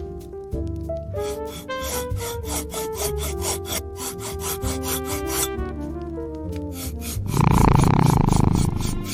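A short rasping scrape of filing a small cat's long, dirty nails smooth in a fairy-tale scene, arriving near the end as a dense burst over ongoing music.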